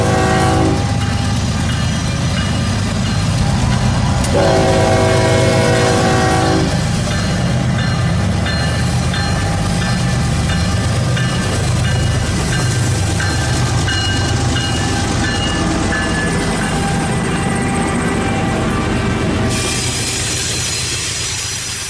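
HO scale model freight train running on a layout modeled on the BNSF Fall River Division, with sustained horn blasts over a steady rolling rumble and rail clatter that gradually fades.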